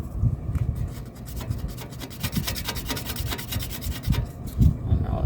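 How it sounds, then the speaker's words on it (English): Sandpaper rubbed back and forth over an RV step stabilizer brace, a steady run of rasping strokes, close and fairly loud, with no talking. "now let's sandpaper"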